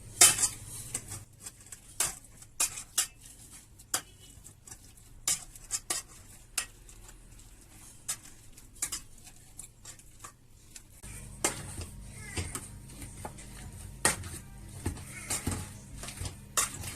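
Boiled potatoes mashed into purée in a tray, with repeated sharp metallic clinks of a utensil against the tray and soft squishing between them, growing busier and more continuous toward the end.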